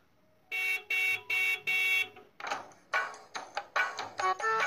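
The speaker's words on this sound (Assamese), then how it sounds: "হৰ্ণ মাৰকচোন হৰ্ণ মাৰক" A car horn honks four times in steady, even blasts, then a series of shorter, choppier honks follows, loud and close.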